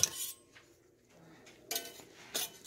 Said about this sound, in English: Slide the spatula underneath. It just lifts right up.